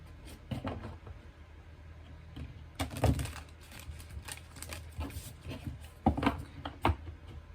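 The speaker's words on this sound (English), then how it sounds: "So let's do some initial shuffling for this." Tarot cards being shuffled by hand in a calm reading setting, soft irregular riffles and taps with a few sharper card snaps and knocks, close and quiet with no talking.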